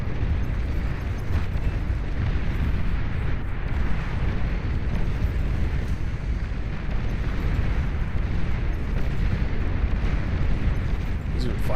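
Continuous dense rumble of cannon fire and explosions from a naval battle in the real-time strategy game Beyond All Reason, a loud unbroken wall of booms with no distinct pauses.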